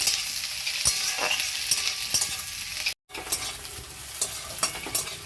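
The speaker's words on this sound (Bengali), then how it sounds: "দেখুন পেঁয়াজ আর ক্যাপসিকামটা ভাজা হয়ে গেছে।" Chopped onion and capsicum sizzle steadily in a hot pan, with repeated scraping and stirring strokes as a spatula works the vegetables. The cooking is close, and a brief silent gap falls midway.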